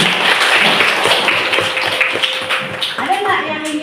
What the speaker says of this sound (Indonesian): kita beri aplaus untuk Agir